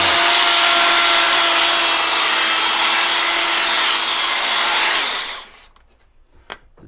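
A Makita 40V GSB01Z belt sander with dust collection runs as a loud, steady, close roar for several seconds, then cuts off and winds down to near quiet.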